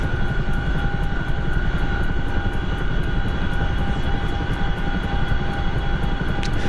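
In a combat game on an Iraq map, a Chinook helicopter flies with a loud, steady engine drone and rapid rotor chop, heard from close inside.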